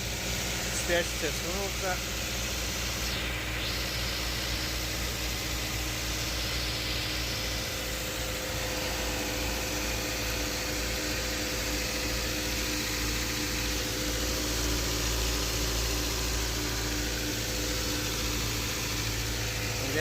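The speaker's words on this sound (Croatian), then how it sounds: "Evo sad motor radi" A car engine idles steadily with a low, even hum and faint vibration, close by and continuous, while someone talks intermittently.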